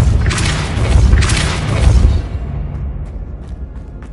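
A Depulso spell blast in the video game Hogwarts Legacy, a loud booming burst that swells twice over about two seconds and then fades into a low rumbling tail.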